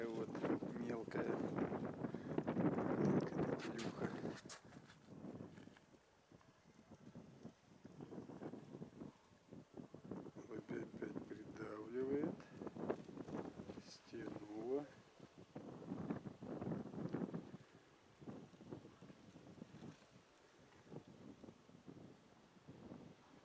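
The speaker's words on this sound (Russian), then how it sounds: "Ветер по деревьям дует," Wind gusts through trees during a light snowstorm, rising and falling in soft rushing swells at a fairly low level, with a person talking over it.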